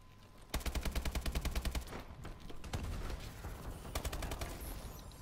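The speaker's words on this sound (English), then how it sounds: "you can get those, like, long hits with the AK and then finish off with the little dinks" Rapid automatic AK rifle fire from Call of Duty: Advanced Warfare, a loud sustained burst followed by further shorter bursts and scattered single shots, with no talking.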